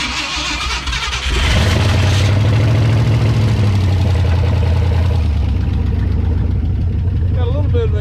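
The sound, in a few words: old 1969/1971 Ford F100 truck engine starting and idling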